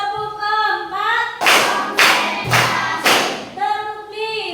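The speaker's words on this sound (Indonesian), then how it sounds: "Sekarang kita menyanyikan tepuk fokus." A classroom of students in a Catholic religious education lesson claps the 'tepuk fokus' pattern: four loud, sharp unison bursts of clapping in a rhythmic sequence, with voices chanting just before and after.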